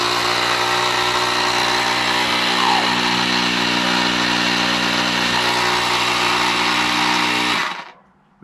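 A Nulksen cordless portable tire inflator compressor runs steadily with a loud, constant motor buzz and hum, then stops abruptly near the end.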